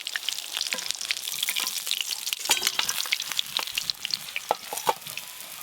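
Pieces of rupchanda fish fry in hot oil with a continuous crackling sizzle and scattered sharp pops at moderate loudness, close up and without talk.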